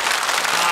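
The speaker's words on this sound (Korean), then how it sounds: "박수 주세요." Studio audience applauding on a Korean KBS family game show, a short dense burst of clapping that fills the moment on its own, loud and steady.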